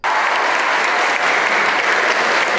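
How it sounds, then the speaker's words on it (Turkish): Students clap loudly and steadily at a school volleyball event, a dense, sustained burst of applause that fills the whole stretch without pause, close and bright, with a faint murmur of crowd beneath. "öğrencilerin büyük alkışını aldı"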